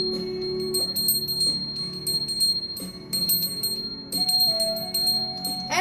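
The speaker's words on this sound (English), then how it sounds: "We got a new bell to ring for all of our angel children." A newly bought bell is rung indoors in repeated bright strikes. Each strike leaves a sustained ring, and several strikes follow one another close and loud.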